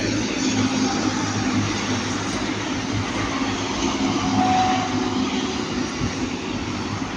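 A train rumbles past at Ardwick, a steady, loud, continuous roar with low droning tones that hold throughout, heard alone without voices.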